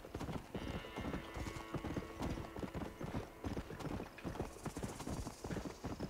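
Rhythmic horse hoofbeats in Red Dead Redemption trot steadily and close, a continuous clip-clop pattern with no voices.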